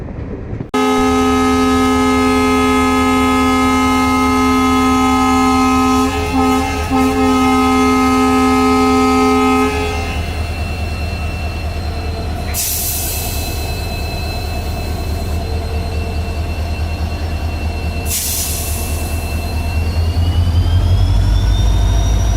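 A loud Indian train rumbles steadily past with a deep engine drone and sustained tonal whine, joined partway through by bursts of high metallic squealing.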